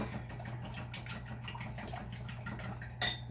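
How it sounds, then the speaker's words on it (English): A whisk beats milk and other ingredients in a bowl at a quick steady rhythm, producing close, repeated scraping clinks against the bowl over a constant low hum, with a slightly sharper knock near the end. "Give these a good whisk."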